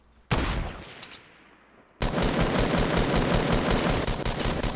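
Fortnite gunfire: a single loud shot rings out and decays, then a sustained rapid burst of automatic fire rattles on steadily, close and loud.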